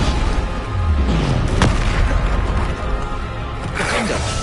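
A booming spell blast in a wizard video game, a deep low thump with a whooshing burst amid ongoing game noise, with a voice shouting a spell name.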